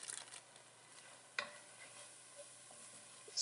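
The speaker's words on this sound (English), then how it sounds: "sweat the onion for 1 to 2 minutes" An onion sweating in a pan for Ethiopian misir wat, a spiced lentil stew, gives a faint, steady, soft sizzle. One brief clatter interrupts it partway through, and there is no talking.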